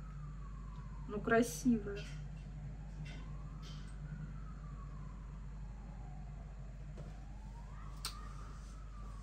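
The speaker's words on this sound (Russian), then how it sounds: "Ой, скорая, наверное, едет, слышите? Или пожарная." An ambulance or fire engine siren passing, faint and distant, with slow wavering wails under a steady low hum, while someone speaks briefly over a couple of close handling sounds.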